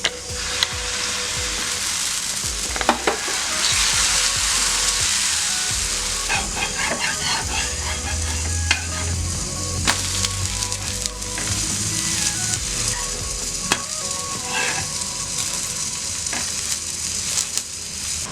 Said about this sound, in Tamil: இன்னொரு தோசை நான் உங்களுக்கு ஊற்றி காட்டுறேன்